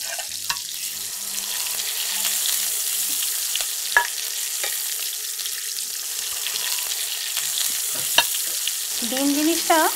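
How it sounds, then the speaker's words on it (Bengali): Eggs fry lightly in a pan with a continuous sizzle, broken by a few sharp clinks and scraping stirs of a utensil, ending in a short squeaky scrape. "খুব বেশি কড়া করব না, হুম, হালকাই আমি ভাজবো।"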